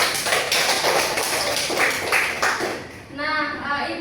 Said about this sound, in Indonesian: berikan aplaus dulu untuk kalian semua